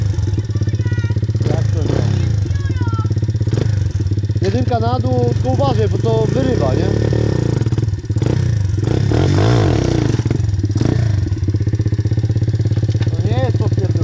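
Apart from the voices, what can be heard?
motorcycle engine revving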